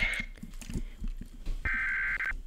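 Electronic alarm from a walkie-talkie in a survival video game, a quiet high-pitched tone sounding briefly at the start and again as a steadier beep lasting under a second later, over soft clicks and low background noise.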